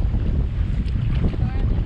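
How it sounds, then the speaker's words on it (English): Gusty wind roars across open water during a storm while paddling into big waves, a steady loud buffeting rush with water wash beneath and no break. "Gotten pretty gusty out."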